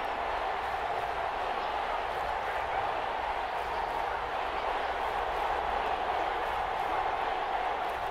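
Steady, distant stadium crowd roar from a football video game, Broncos at Chargers, swelling slightly before a big third down, continuous and unbroken throughout with no distinct claps.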